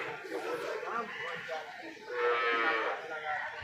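A Murrah buffalo at a livestock market gives a drawn-out low moo, with market chatter and voices in the background throughout.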